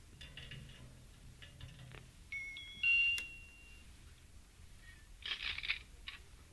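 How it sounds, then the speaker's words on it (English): Doorbell at a house in a 1957 radio drama, a short pair of chiming tones sounding faintly over quiet room noise, with scattered small clicks and rustles before and after. "I'm going to ring the bell again."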